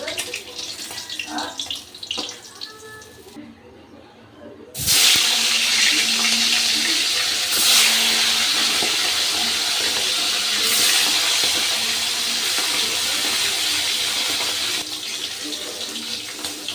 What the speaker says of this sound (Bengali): এইরকম লাল লাল করে আমি বাকি মাছগুলো ভেজে নেব